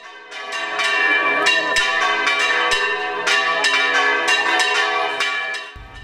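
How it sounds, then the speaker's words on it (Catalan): Four church bells of a parish bell tower in the coastal town of Cullera ring a festive blessing peal, loud and close, with dense overlapping strikes clanging in a steady rhythm for the whole stretch. "El repic de benedicció va sonar en la ciutat costanera al voltant de les 7 de la vesprada i es va realitzar amb les 4 campanes"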